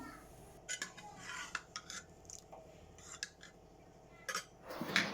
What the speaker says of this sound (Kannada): ಈ ಥರ ಸೌಟಲ್ಲಿ ಇಲ್ಲಿನ ಸಾಂಬಾರನ್ನ ಸ್ಮ್ಯಾಶ್ ಮಾಡ್ಕೊತಾ ಇದ್ದೀನಿ